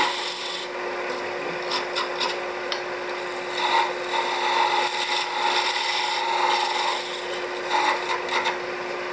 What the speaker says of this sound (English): this is where we will use the parting tool to find the proper diameter